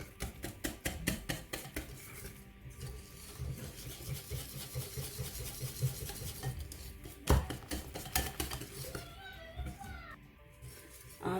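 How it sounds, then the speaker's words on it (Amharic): Pancake batter is whisked hard in a bowl, producing a steady run of rapid clinking and scraping strokes throughout, with a few louder knocks against the bowl. "ይሄው እንደዚህ አድርጌ በደንብ እመታለሁ።"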